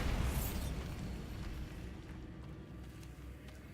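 The Bombarda blast spell goes off in a Harry Potter video game, a loud, booming explosion that hits at once and then rolls away into a fading rumble.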